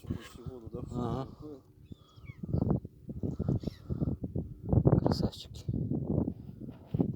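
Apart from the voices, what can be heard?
seagulls calling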